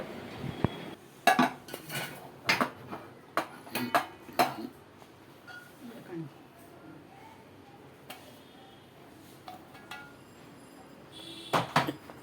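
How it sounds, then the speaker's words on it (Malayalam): Metal clinks and clanks in scattered bursts as a pressure cooker lid is handled while making kappa puzhukku, with quieter stretches between the knocks. "മൂടി തുറന്ന് മൂടിയിലെ ഗ്യാസ്കറ്റ് മാറ്റി മൂടിയുടെ അടിഭാഗം മുകളിൽ വരും വിധം കുക്കറിൽ തിരിച്ചു വയ്ക്കുക"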